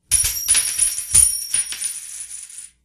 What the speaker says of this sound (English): Coins dropping.